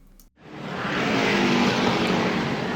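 A NASCAR race car at Darlington Raceway spins out, a sudden broad roar of engine and tire noise swelling up after a brief dropout and holding loud and steady.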